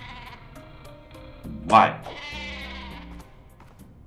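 A cartoon sheep weapon bleats in Worms Revolution, one sharp rising bleat in the middle over game music, with a voice briefly exclaiming around it.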